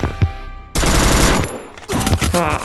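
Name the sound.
gunfire in Free Fire video game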